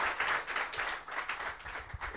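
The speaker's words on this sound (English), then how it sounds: "So please, a big applause for Marin." Applause for a speaker at a developer conference, a short burst of clapping with an uneven, pulsing texture that stays fairly steady.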